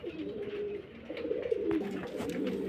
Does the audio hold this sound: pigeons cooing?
yes